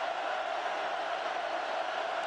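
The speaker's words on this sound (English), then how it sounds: "Listen to the crowd." Crowd noise at a 2009 Big Ten college football game between Oregon and Purdue, a steady dense roar filling the stadium without a break, loud and continuous behind the play.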